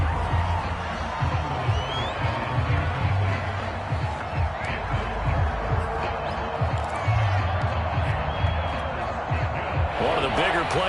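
A stadium crowd roars and cheers in a football video game on PS4, a continuous loud wash of noise that swells and stays steady beneath a commentator's play-by-play talk.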